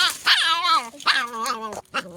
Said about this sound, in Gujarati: મિત્રો બે ગલુડિયા ભેગા થયા